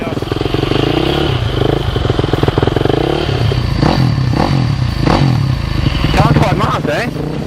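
Two-stroke motorcycle engine warming up and revving close by, a loud, smooth, rapid buzzing putter that rises and falls with throttle blips, with people talking over it.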